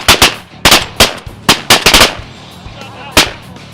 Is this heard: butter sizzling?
no